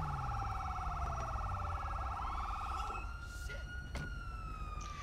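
A police siren wails in GTA V with the LSPDFR police mod, its rising and falling tone cycling clearly for about three seconds before cutting off, followed by brief chirps and clicks.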